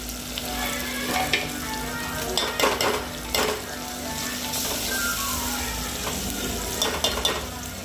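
Boiled toor dal goes into a hot pan for a homemade dish, with a continuous sizzle and repeated metallic scrapes and clinks of a spoon stirring against the pot.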